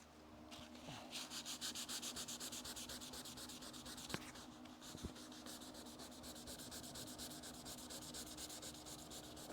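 320 grit sandpaper rubs over a thin layer of paint on a Charger crew cab under restoration, making a close, rapid, rhythmic scratchy rasp of steady back-and-forth strokes with a couple of sharp knocks and no talking.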